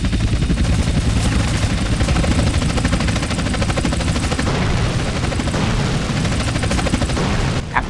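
Sustained rapid gunfire aimed at helicopters in GTA San Andreas, with heavy booms and a rotor-like drone underneath, loud and unbroken across the whole stretch.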